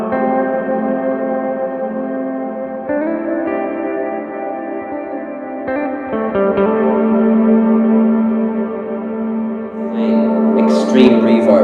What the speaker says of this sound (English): Extreme reverb